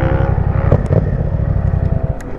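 A Yamaha Tracer MT-07 motorcycle engine drones loud and close in a steady, throbbing run with slight pulsing, no speech over it.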